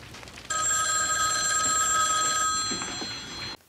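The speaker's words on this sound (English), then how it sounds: "Phone's gonna ring?" A telephone rings in a film scene, a bright electronic trill that starts abruptly and holds steady for about two seconds before fading out, with no talk over it.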